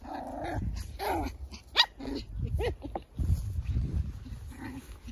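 Puppies growl and yip in short scuffling bursts while wrestling, close by, with playful snarls and a few sharp barks.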